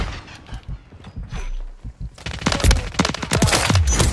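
Rapid gunfire in Call of Duty Modern Warfare 3 multiplayer, with bursts of automatic shots that swell into a loud, dense volley in the second half, mixed with footsteps and game effects.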